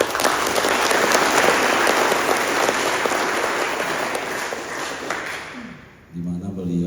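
Applause from an audience at the opening of a community empowerment training event, with steady, dense clapping that fills the room for several seconds before fading out, followed by someone speaking.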